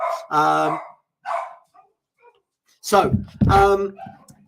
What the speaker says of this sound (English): If you do hear the dogs, it's just the door's gone. They've got all excited.